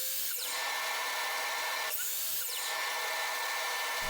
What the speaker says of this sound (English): I drilled 2 holes on each of the 4 joints